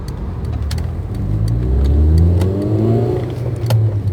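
A car on a fast-moving road pulls out during a driving lesson, its engine rising in pitch as it accelerates through the gears, loud and close, with light clicks and road noise.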